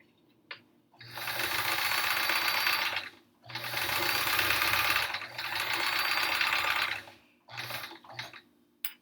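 A sewing machine stitches rows of a Triangle Tango quilt, straining to pull a bulky section through, running in three long steady bursts with short pauses and a few brief stuttering runs at the end.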